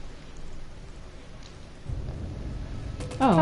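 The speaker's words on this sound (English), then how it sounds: "You're making it rain on you." Rain with thunder in the horror game Outlast Whistleblower, a steady rainfall hiss that thickens into a heavier downpour partway through, with a brief rumbling swell near the end.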